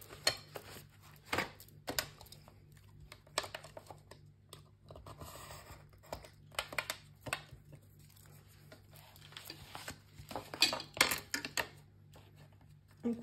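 Paper album pieces for a Stamperia Rose Parfum album being trimmed at each of the four corners with a small corner punch, making a series of short, crisp clicks and snips at irregular intervals, close up, with no talking.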